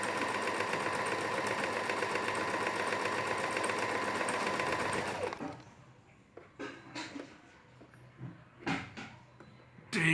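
A Singer Start 1306 sewing machine runs fast and steady, a close mechanical whirr with a quick rhythmic stitching pulse that stops after about five seconds, followed by quieter handling clicks and thumps.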